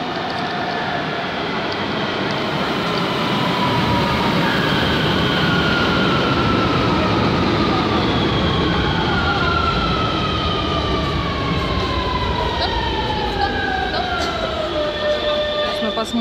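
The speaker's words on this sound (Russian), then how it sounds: "Наконец-то едет наш вагон." A metro train car rolls into a station, a loud steady rumble and screech of wheels with whining tones that rise and fall throughout.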